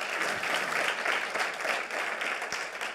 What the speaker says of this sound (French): On peut applaudir Pascal Demurger.